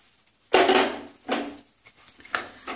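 A cooking pot's lid is lifted and fried mourola fish are added to a simmering sour fish curry, giving three sharp metallic clanks and scrapes separated by short pauses, close and fairly quiet.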